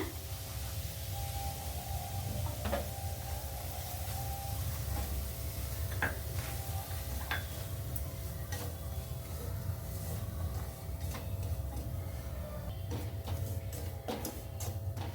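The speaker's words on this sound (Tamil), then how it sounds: "ஒரு ரெண்டு நிமிஷத்துக்கு நெய்யில் ரவையை வறுத்துக்கிட்டாச்சு" Semolina roasts in ghee in a pan, giving a quiet, steady low sizzle broken by scattered soft ticks and scrapes of stirring, with no talking.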